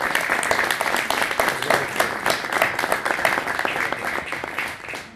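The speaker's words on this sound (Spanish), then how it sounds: "Y agradecerle con un aplauso." An audience at a debate on the audiovisual industry gives a steady round of applause. Many hands clap densely and evenly throughout, with no talk over it.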